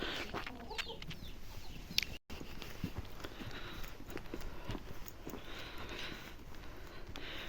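Chickens cluck softly and intermittently outdoors over a steady background hiss, with scattered faint bird calls and no talking.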